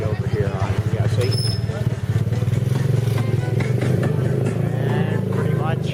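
A habal-habal motorcycle taxi rides along an island road on Camote Islands, its engine buzzing close and steady with rattling clatter and bumps over the surface, while people talk over it throughout.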